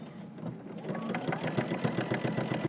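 A sewing machine stitches in the ditch along a seam of track trousers, a fast, even mechanical patter running steadily for a few seconds, close and moderately quiet.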